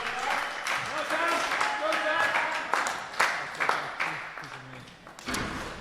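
Crowd applauding at a senior national championship, steady clapping with scattered louder claps, under ongoing commentary voices.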